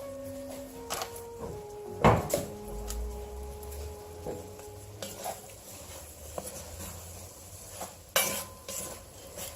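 Mushrooms drop into a hot pan with a clattering thump, then sizzle softly while a utensil scrapes and clinks against the pan in several sharp knocks.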